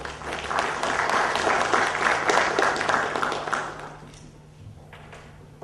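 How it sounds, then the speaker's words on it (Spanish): An audience at a constitutional law lecture applauds a speaker with full clapping that holds strong for several seconds, then thins and fades out toward the end, leaving a low room hum. "Por favor, un fuerte aplauso"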